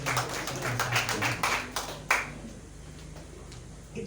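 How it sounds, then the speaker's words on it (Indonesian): A church congregation gives a short round of scattered hand claps during a Thursday worship service, the claps fading and thinning out after a couple of seconds. "Kasih tepuk tangan dong buat kita semua."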